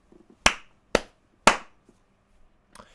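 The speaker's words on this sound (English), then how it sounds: "The reason YouTubers clap at the start of videos or whatever is so that they can sync the audio up to the visuals" Hand claps made to sync sound with picture: three sharp, loud, close claps about half a second apart, followed after a pause by a faint softer tap.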